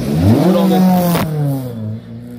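A Ford Escort rally car at a rally in the Ardennes revs hard close by, climbing in pitch, then lets off with a crackle as the engine tone drops away.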